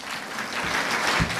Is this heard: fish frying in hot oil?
no